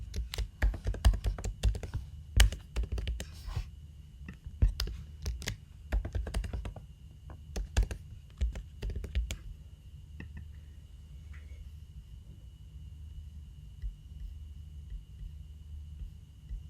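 Typing a password on a computer keyboard: a close, quick run of sharp key clicks in uneven bursts for about ten seconds, then trailing off to a faint hum with only a couple of stray taps.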